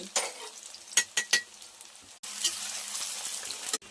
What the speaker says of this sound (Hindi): प्याज के हल्का सा भून ज्यादा ना